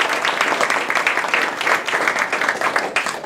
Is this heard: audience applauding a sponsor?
yes